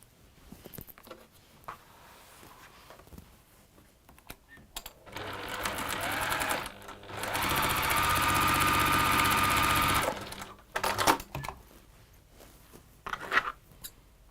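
A sewing machine stitching across fabric along a 45-degree line, a fast mechanical whirring run of several seconds in the middle, surrounded by quieter handling, rustling and brief clicks.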